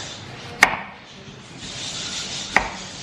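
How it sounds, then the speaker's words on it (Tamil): A knife cuts a washed sweet potato into thick chunks on a board. Two crisp, separate chops land about two seconds apart over a quiet background, with no voices. "இப்போ இதை வந்து இந்த மாதிரி சங்க் மாதிரி கட் பண்ணிக்கோங்க"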